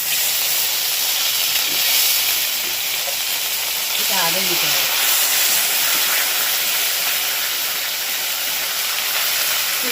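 Ginger-garlic paste frying in hot oil for a rohu fish kalia, giving a steady loud hiss and sizzle across the whole stretch, with a brief spoken phrase partway through.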